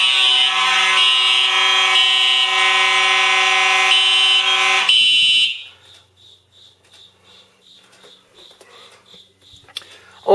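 A Simplex 4005 fire alarm system under test sounds a loud, continuous electronic horn for about five seconds, then falls silent except for a faint repeating beep.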